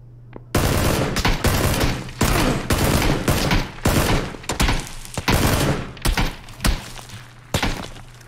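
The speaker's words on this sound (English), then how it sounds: "He's getting shot at." Rapid gunfire in PUBG, dense bursts of loud close shots in long strings with brief gaps between them, harsh and sustained, with no talk over it.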